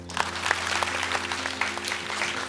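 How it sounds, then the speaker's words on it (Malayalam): Audience applause at an Onam celebration event at a care home, welcoming the Mother Superior; steady, dense clapping from a crowd at moderate distance, continuous throughout with a faint low hum underneath. "നമുക്കൊന്ന് നല്ലൊരു കൈയടി കൊടുക്കാം."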